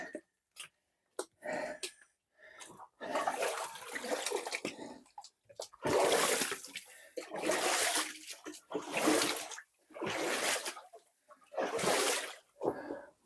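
Feet wading through deep water in an old passage, with bursts of splashing and sloshing that come in a repeated stride rhythm and grow louder, separated by short quiet gaps.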